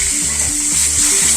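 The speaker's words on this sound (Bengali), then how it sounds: "মাছের মাথা তোমরা ভালোভাবে ভাজা করে নিবা।" Hilsa fish heads fry in a pan with a loud, steady sizzle and busy crackling that runs unbroken through the short stretch, with no one speaking.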